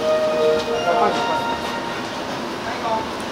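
A Tōkaidō Main Line Special Rapid train between Toyohashi and Ogaki, heard from the cab, gives a steady rumbling run with a thin mechanical whine. A faint, muffled voice sits in the background.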